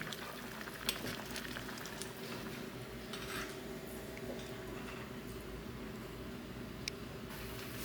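A pot of fish curry bubbles and sizzles quietly on the stove, a soft, continuous simmer with a few faint clicks.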